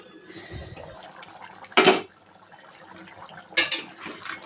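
Water poured into a pot of meat being browned in home cooking: two short splashing gushes a couple of seconds apart, close and fairly loud, against quiet kitchen background.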